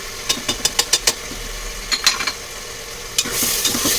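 Onions sautéing in a pan with chili powder, turmeric and garam masala for coconut milk rice: a soft steady sizzle broken by several sharp scraping stirs of a spoon against the pan, then a louder hiss near the end.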